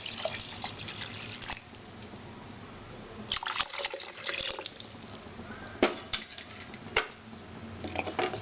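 Water is poured into a pot of rice for chicken pulao, giving a soft, continuous splashing trickle with scattered drips and a few sharper clinks of the pot, fairly faint and close.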